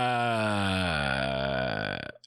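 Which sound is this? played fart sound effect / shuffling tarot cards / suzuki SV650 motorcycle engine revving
played fart sound effect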